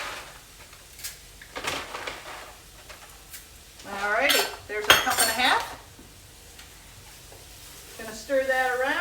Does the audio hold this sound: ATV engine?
no